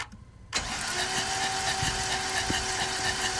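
A Jeep Grand Cherokee's 5.7 HEMI V8, missing compression in one cylinder, is cranked over by the starter: after a short quiet moment, a steady, churning cranking drone with a faint whine runs unbroken to the end.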